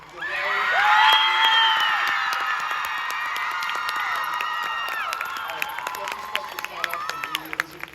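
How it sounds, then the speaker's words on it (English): A crowd cheering and shouting loudly at a VidCon Anaheim panel, with scattered clapping underneath, the voices swelling early then gradually thinning out. "Give another huge round of applause to Ranboo."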